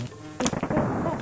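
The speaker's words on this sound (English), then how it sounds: "Fancy bees." Buzzing bee enemies in Donkey Kong Country on the SNES, in the Monkey Mines world, sound as a busy burst of electronic game effects over steady game noise, with a sharp hit near the start.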